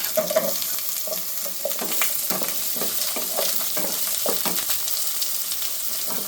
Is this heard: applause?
no